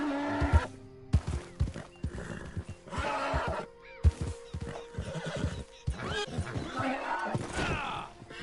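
A horse neighs and whinnies repeatedly in loud, close bursts, with clip-clop hoofbeats and movement between the calls.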